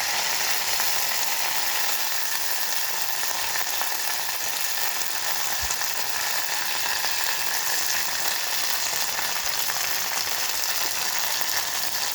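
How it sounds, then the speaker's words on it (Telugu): Washed mint leaves fry in oil in a pan for a mint and tomato pickle, giving a steady, dense sizzle that holds evenly throughout, with no talking. "అవి సపరేట్ చేసి మళ్ళీ ఇందులోకి మనం వాష్ చేసుకున్న పుదీనా వేయాలి"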